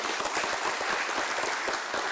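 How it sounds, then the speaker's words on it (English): Applause from the audience at a listing ceremony for Capri Global Capital Limited at the BSE, a dense, steady wash of many hands clapping at even loudness for the whole stretch, with no voices over it. "Please give them a big hand"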